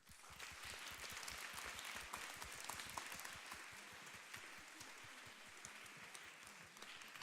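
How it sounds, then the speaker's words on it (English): An audience at a book talk applauds warmly, dense steady clapping from many hands in a room, sustained and even throughout, fairly quiet and without voices. "A warm round of applause."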